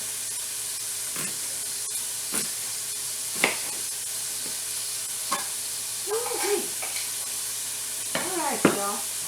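Chopped onions for chicken and white bean chili sizzle in a pot with a close, crackling hiss as a spoon stirs them in scattered scrapes; a voice briefly sounds near the end.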